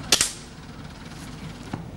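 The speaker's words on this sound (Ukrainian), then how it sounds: "Після відбувається стрільби з пневматичної гвинтівки." Air rifle shots at a youth military-sport shooting contest: two sharp close cracks in quick succession, then a fainter third shot about a second and a half later, over quiet background.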